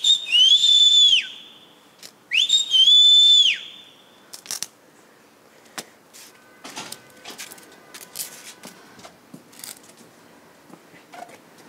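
A person whistles two short rising-and-falling tones, clear and close, followed by scattered clicks, taps and light rustling in a quiet room; no speech.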